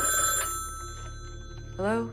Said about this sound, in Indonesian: Tiba-tiba telepon rumah berdering.